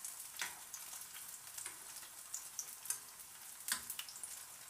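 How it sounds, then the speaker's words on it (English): Beef and cheese empanadas frying in hot oil give a steady close sizzle with soft crackling bursts, and a sharper spatter flares up partway through. "And you just drop it in the oil. And let them fry."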